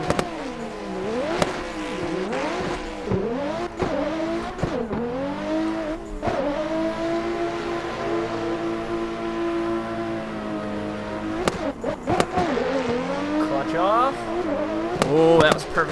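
Toyota A90 Supra in the Assetto Corsa racing game, engine screaming at redline with repeated rising revs and sharp gear-change drops, tire squeal at moments, loud throughout with a player talking over it.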